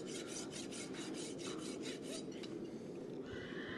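A farrier files a horse's hoof with a rasp while fitting shoes to a barefoot horse, making a quick series of rhythmic scraping strokes that are fairly faint and then stop.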